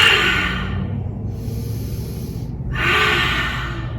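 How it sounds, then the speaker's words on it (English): Slow, deep breathing during a yoga flow: one long breath in or out, a pause, then another close breath, heard alone and fairly near with no talk. "Deep breath in."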